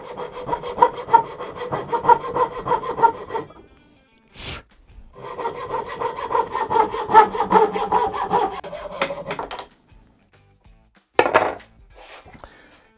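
A coping saw cutting through wood with quick rhythmic rasping back-and-forth strokes, close and clear, pausing briefly twice before resuming.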